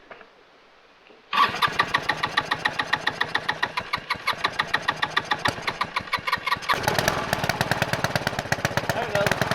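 An old project engine on a restoration job, ignition switched on, fires up after a quiet moment and settles into a loud, steady rapid chugging idle that gets briefly louder and rougher near the end.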